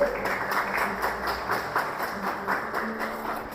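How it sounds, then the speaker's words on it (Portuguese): Church congregation applauding together, a steady wash of clapping with a loose rhythmic pulse, moderately loud, with some voices mixed faintly underneath. "Aplauda a palavra do Senhor."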